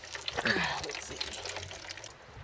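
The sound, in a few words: coolant draining from a Subaru Impreza WRX radiator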